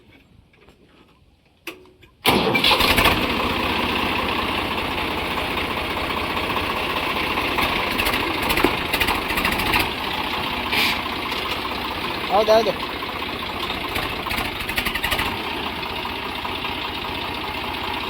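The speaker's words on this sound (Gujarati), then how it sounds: "હવે ટ્રેક્ટર ચાલુ કરીને ઉપર આવજો પાણા ઉપર ધીમે ધીમે" A tractor engine cranks and catches, then settles into a steady, loud idle with a ticking clatter, running continuously while people call out over it, set against a rural jugaad job of driving up onto stones.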